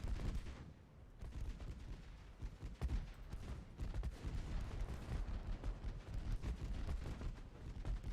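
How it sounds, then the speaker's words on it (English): Battleship 5-inch guns fire in a naval combat video game: dense, overlapping booms and rumbling blasts roll continuously at moderate loudness, with no pauses between volleys. "the battleship 5-inch guns hit again immediately"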